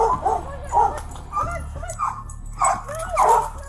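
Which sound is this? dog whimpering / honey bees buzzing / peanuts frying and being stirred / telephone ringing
dog whimpering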